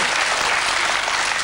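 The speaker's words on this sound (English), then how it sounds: "Usually gets a round of applause for some reason." Studio audience at a television chat show breaks into dense, steady applause, loud and continuous for the whole short stretch with no voices over it.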